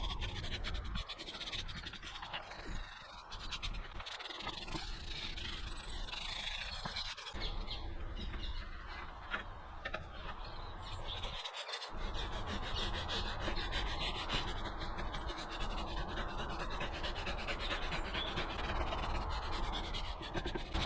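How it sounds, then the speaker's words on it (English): Gloved hand scrubbing a greasy metal cooker hood filter with a brush: continuous close, rough scratching and rubbing strokes with a few brief pauses. "we're going to give it a bit of a scrub with a brush wearing gloves"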